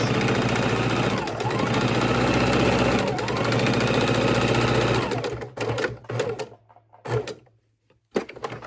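Sewing machine stitching a double-layer fabric potholder, a loud steady whirring drone close by for about five seconds, then short stop-start bursts of stitching with pauses while the fabric is pivoted.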